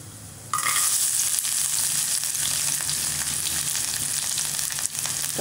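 Garlic, chana dal and urad dal sizzle loudly in hot oil for a Tamil garlic chowchow dish, a steady bright crackle that jumps up suddenly as they hit the pan and continues without talk.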